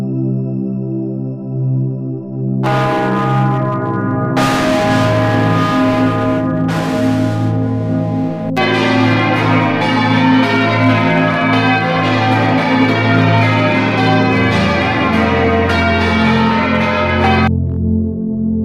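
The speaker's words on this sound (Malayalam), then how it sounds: "പന്ത്രണ്ട് പേർ ഒരുമിച്ച് ഒരേ സമയം ഓപ്പറേറ്റ് ചെയ്യുന്ന ഒരു ബെൽ സിസ്റ്റവും ഇവിടെ ഉണ്ട്" Church bells of York Minster, rung from a twelve-bell system, peal loudly and resonantly in overlapping strikes with long ringing tones that swell and layer together.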